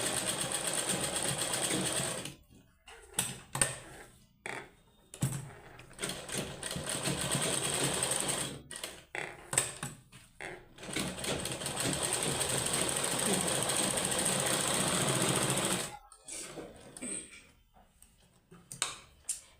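A sewing machine stitches socks made from an old sweater in bursts of fast, loud mechanical whirring separated by short pauses, with brief stops and restarts and one long continuous run.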